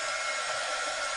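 A heat tool blows steadily while heat-setting damp art journal pages, a short, close, continuous whooshing hum with no speech.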